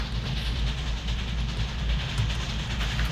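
Steady train rumble and rhythmic clickety-clack of a moving railway carriage in the 1997 DOS game The Last Express, a constant low, moderately loud ride with no voices.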